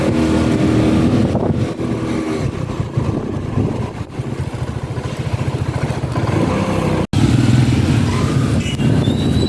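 Road traffic rumbles steadily throughout, with car and motorcycle engines droning close by and a brief dropout near the end, while someone handles errands by vehicle in busy city streets.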